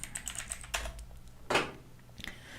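Quick clusters of keystrokes on a computer keyboard as a layer name is typed, close and clear with short pauses between bursts of clicks in a quiet room.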